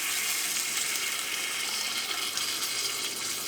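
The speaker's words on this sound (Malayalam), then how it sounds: "ഇതിലേക്ക് നമുക്ക് ചിക്കൻ വേവാൻ കുറച്ച് വെള്ളം ചേർക്കാം." Water being poured into a pan of chicken tomato masala curry while cooking, a steady, continuous hissing splash of liquid, fairly close and unbroken throughout.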